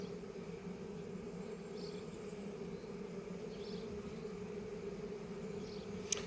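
A steady, low droning hum of a honeybee swarm of Caucasian bees buzzing together, continuous and even throughout, with no voices.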